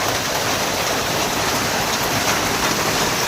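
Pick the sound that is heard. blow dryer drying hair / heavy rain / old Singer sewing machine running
heavy rain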